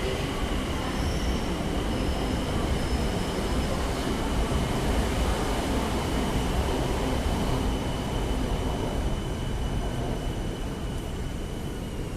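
A BTS Skytrain pulls into Samrong station in Bangkok, a steady loud rumble of wheels and carriages with a faint high squeal running throughout, with no one speaking.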